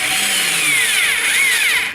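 A Forstner bit bores into wood while building a wine wall rack, giving a steady close grinding whir with a wavering, rising and falling whine throughout.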